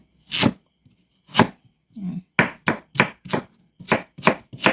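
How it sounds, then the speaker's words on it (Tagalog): Knife blade striking a cutting board as washed taro (gabi) is cut into cubes: about ten sharp, evenly spaced chops, close and distinct, with no voices. "After mahugasan yung gabi, ito na po, hiwa-hiwain na natin ng pa-cubes."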